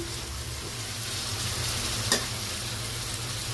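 Red lentils hit bitter gourd frying with onion in oil, giving a steady soft sizzle under stirring, with one brief louder scrape partway through.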